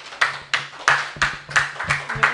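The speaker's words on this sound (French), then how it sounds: "Je vous applaudis." Audience at an OpenStreetMap community presentation in Ivory Coast claps in a short, sparse run of distinct hand claps, close and fairly loud, with no talking.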